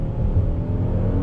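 A 2020 Kia Telluride EX SUV with a naturally aspirated V6 accelerating under throttle, heard as a steady, loud low engine drone from inside the cabin.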